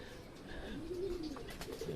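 Low, soft cooing from racing pigeons in a rolling series, moderately close, with faint ambient background noise and no talking.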